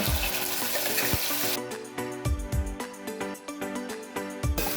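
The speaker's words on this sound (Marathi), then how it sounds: "वाटण छानपैकी तूप आणि तेलामध्ये असं फ्राय करून घ्यायचं" Ground coconut and green chili paste fries in melted ghee and oil with cumin and curry leaves for a fasting potato-peanut dish, a loud sizzle giving way to rhythmic clinking stirs against the pan, close and unbroken by speech.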